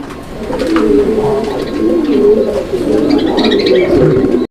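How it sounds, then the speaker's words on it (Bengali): A pair of fancy pigeons kept for sale coo steadily and close by, their low warbling calls rolling on in overlapping phrases with a few brighter chirps, and no talking. "এখানে আরও এক জোড়া কবুতরের কালেকশন আছে"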